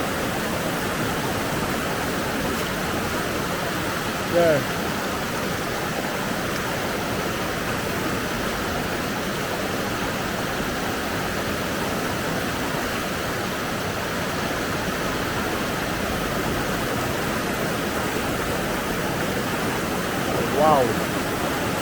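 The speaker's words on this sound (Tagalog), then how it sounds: "And here's the rapids." Steady, loud roar of rushing river rapids on the Dupinga River, Philippines, filling the whole stretch without letup; a brief voice is heard once near the start.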